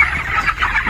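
Poultry broiler chickens on a farm clucking, several close, loud, overlapping clucks packed into one short burst.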